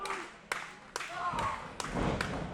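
A wrestler claps both hands over an opponent's ears during a pro wrestling match, a series of sharp slap-like impacts, about five in quick succession, under a commentator's talking and crowd murmur.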